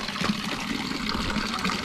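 Water flows without pause at an old village wash house fountain in Patones de Arriba, a soft, continuous trickling rush heard alone at moderate distance.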